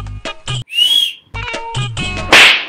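Boys give sharp, loud wolf whistles in short bursts, a rising tone and a shrill final blast cutting between musical beats and noise.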